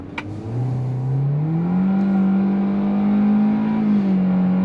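A 2023 Hyundai Venue's CVT 4-cylinder engine in Sport mode pulls up from a low hum into a steady droning rise, holding a single sustained pitch with slight fluctuation, heard from inside the cabin without talking.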